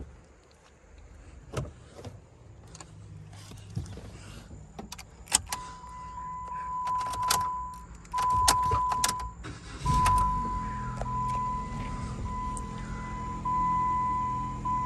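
A used car for sale cranks and starts partway through, its engine settling into a steady, close idle, with a repeated high warning chime ringing intermittently and a few clicks and clunks before it fires.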